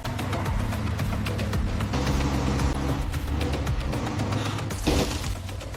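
A Ranger pickup truck driving hard on dirt roads, a steady loud engine roar with constant rattling and bumping, brief knocks and a sharper crash near the end, no voices.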